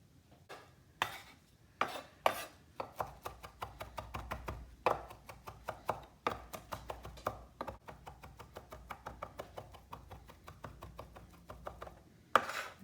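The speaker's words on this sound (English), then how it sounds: "I'm gonna chop it right into the parsley" A knife chops rapidly on a cutting board, cutting an ingredient into parsley for tzatziki, with close, steady rhythmic taps and occasional louder knocks.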